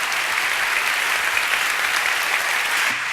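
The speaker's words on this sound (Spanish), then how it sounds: "Un aplauso para él." An audience at a live science talk event in Bilbao breaks into steady, sustained applause, a dense wash of clapping hands that holds at an even level throughout.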